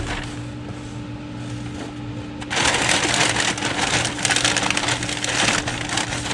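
Packing paper gets crinkled and stuffed around a vintage Revell model kit box, starting as a faint rustle and turning into loud, dense crumpling partway through.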